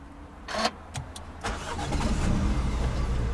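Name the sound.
2019 MINI Cooper engine starting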